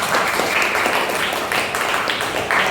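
A group applauds students at a school program event, with dense, steady clapping that fills the whole stretch and carries some crowd murmur beneath it.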